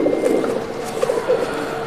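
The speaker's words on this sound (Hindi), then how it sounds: "बस शर्मीला कबूतर है" Soft, low pigeon coos repeat in short rolling bursts close by, over a quiet background hum.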